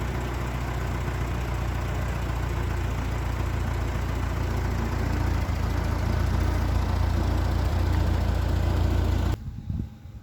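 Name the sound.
tractor engine running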